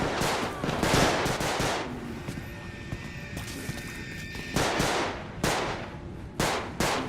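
Six-shooter revolver fire in Bodycam: a rapid string of sharp, close shots in the first two seconds, then a pause and three more separate cracks spaced out toward the end.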